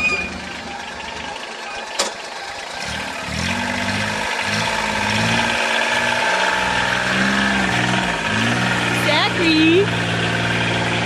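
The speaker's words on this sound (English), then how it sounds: "You riding the tractor" A steady tractor engine idles throughout with a low, rumbling drone while a person calls out over it.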